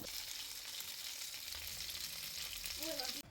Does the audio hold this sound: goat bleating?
no